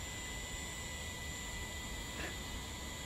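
An electric air pump hums steadily while inflating camping gear for a tent pitched on a backpacking trip, a constant whirring hiss with no pauses, fairly close.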